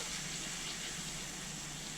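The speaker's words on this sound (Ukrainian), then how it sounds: "Та заливаю це все водою." Water gushes steadily into a pot of fried vegetables for pumpkin cream soup, a brief, fairly quiet continuous pour with no voices.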